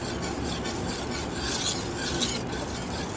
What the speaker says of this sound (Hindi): और इसे करेंगे अच्छे तरीके से मिक्स।